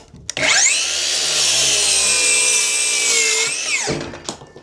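Power saw cutting a short piece off the end of an 8-foot wooden board inside a cabin, one loud close continuous whine that spins up, holds for about three seconds, then winds down, followed by light clatter.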